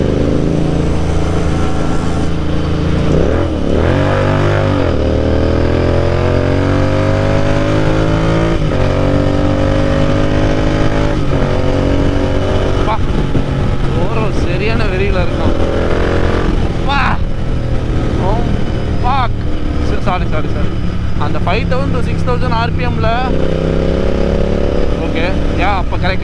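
A Royal Enfield GT650 engine revs hard and steadily for a long stretch, with loud, rising and falling tones around 4,000 to 6,000 RPM that sound close and continuous throughout.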